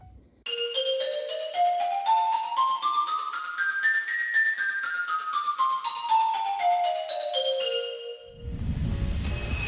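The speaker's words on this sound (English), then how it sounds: "A xylophone is often used for rhythmic passages, fast melodies, and colorful effects." A xylophone struck with mallets plays a quick, bright melodic run that climbs and then falls back down, clear and close, ending in a short burst of noise.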